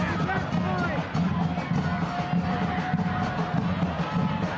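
Stadium crowd noise at a USL Championship soccer match, a steady dense roar and murmur of many fans filling the whole moment without pause.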